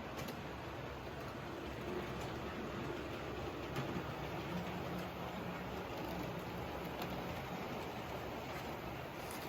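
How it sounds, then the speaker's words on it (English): OO gauge model Class 37 locomotive hauling coaches around a layout track with its sound function off, a steady, even rolling rumble and faint wheel noise that continues without pause and without speech. "I'll let it do a whole lap, and you can see that there is no issues whatsoever with the locomotive or the coaches"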